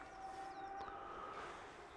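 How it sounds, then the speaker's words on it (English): A train approaches, heard as a faint, steady rumble with thin drawn-out tonal whines on top, fairly distant and with no talk. "And now the train is coming"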